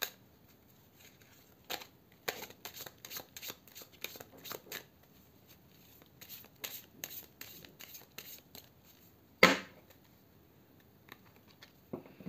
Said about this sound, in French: Je vais ensuite mélanger afin de développer le tirage.